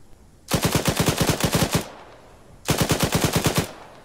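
Machine gun fire into a shed in a video game, two loud close bursts of rapid rhythmic shots, about a dozen rounds each, separated by a short pause.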